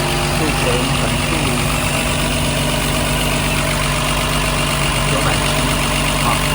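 Mercedes R107 280SL engine idling steadily during a test after fuel distributor repair, a loud constant close-up hum and vibration without pause, with someone talking over it.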